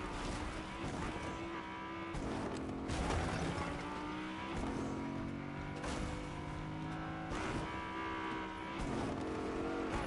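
Car engines drone steadily through a Fortnite match, a continuous revving hum with shifting pitch as vehicles drive, close and fairly loud throughout with no talk over it.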